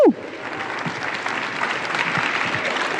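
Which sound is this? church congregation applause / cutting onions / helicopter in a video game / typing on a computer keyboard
church congregation applause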